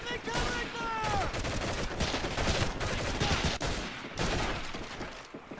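Dense covering gunfire in the video game Medal of Honor: Heroes, continuous rattling volleys of rifle and machine-gun shots that fill the whole stretch, loud and close, with a brief voice near the start.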